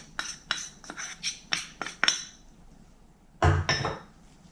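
A spoon scraping and clinking against a bowl while stirring a cottage cheese and potato starch filling, a steady series of strokes, then a pause and two louder scrapes, close by.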